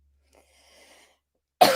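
One sharp human cough bursts out abruptly near the end after near silence, close and fairly loud.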